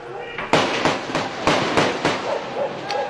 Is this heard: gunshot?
yes